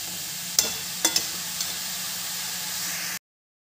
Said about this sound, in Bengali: এবার বেশ ভালো করে একটু নেড়ে চেড়ে দেবো।